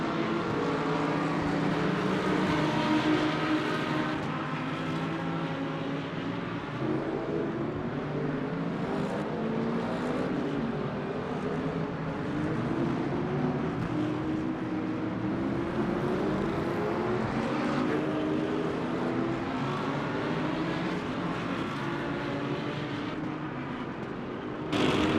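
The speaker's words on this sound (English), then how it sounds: "I do still rate the sound of this Lamborghini" Lamborghini race car engine in the Le Mans Ultimate racing game, a loud sustained roar running steadily for the whole stretch with shifting tone as revs rise and fall, no talking over it.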